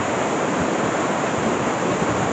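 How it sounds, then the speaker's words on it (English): A small waterfall in the Wasdale Valley of Cumbria's Lake District rushes steadily, a loud, unbroken roar of falling water with no pauses, heard close by outdoors. "Small waterfall."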